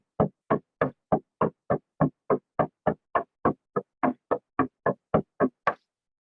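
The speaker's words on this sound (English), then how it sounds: "I have to keep in time to the rhythm of the drum." A drum is struck in single sharp beats for straight dancing, the hits spaced fairly evenly and gradually coming a little quicker, loud and close with silence between strokes and no voices.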